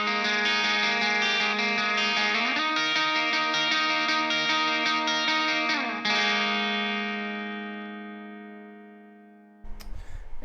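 An electric guitar plays a lead outro on a clean channel drenched in reverb, sustained ringing notes and slides that fade into a long decaying tail before a brief handling noise.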